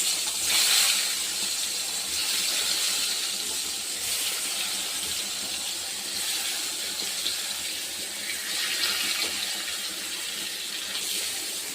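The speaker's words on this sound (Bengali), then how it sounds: "তেল গরম হয়ে গেছে, বেগুনগুলো এক এক করে দিয়ে দেব।" Eggplant slices hit hot oil in a kadai, giving a loud, steady broadband sizzle and hiss that fills the whole stretch with mild swells and no talk.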